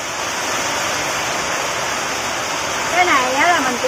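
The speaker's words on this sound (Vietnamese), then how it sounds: "Bây giờ đang mưa luôn đó các bạn ơi, ông trời đang mưa xuống kìa" Heavy rain pours down in a dense, steady hiss that fills the whole clip, with a brief voice rising over it near the end.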